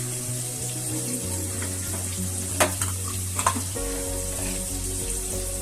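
A ginger, garlic and cumin paste fries in oil for Bengali chicken kosha, a steady close sizzle with stirring scrapes and a couple of brief knocks, unbroken by talk.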